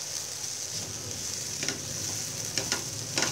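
Finely grated sweet potato frying in a pan for halwa: a steady, gentle sizzle with a few sharp stirring scrapes near the end.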